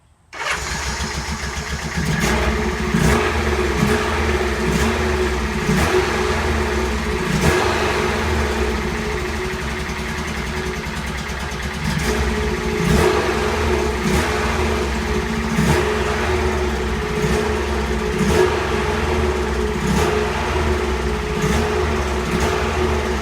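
A Honda S600 engine cranks and starts, then idles slightly unevenly as it runs rough from being out of sync, with rhythmic pulsing and brief revs, close and loud with no talking.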